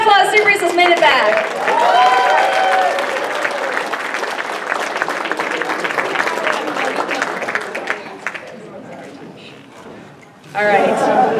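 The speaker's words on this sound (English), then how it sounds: "Everybody, give a round of applause." Applause from a convention panel audience at Bronycon 2014, a broad sustained wash of clapping from a crowd, with a voice speaking over it before the clapping fades and a brief burst returns at the end.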